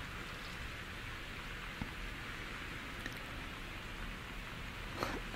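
Heavy rain in the video game Gone Home, a steady dense hiss of downpour with faint scattered patters, continuous and even at moderate level with no talking.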